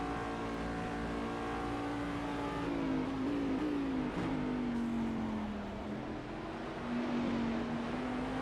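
Onboard GT2 race car engine at Road Atlanta during a six-hour race, a loud continuous tone rising and falling as the car accelerates, shifts and brakes through corners, engine alone without talk.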